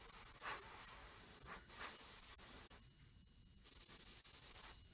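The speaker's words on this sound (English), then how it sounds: "You can use the air from the airbrush to help dry." An airbrush blows compressed air in several bursts of steady hiss, each lasting about a second, separated by short pauses, close up and alone.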